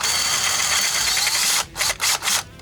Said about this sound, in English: I'm going to carefully remove the drill bit, and I'm going to reverse the drill